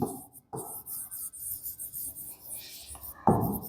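Marker or chalk writing on a board in a physics classroom, with soft rubbing strokes and taps in short bursts, fairly close and moderately quiet, with no talk over it.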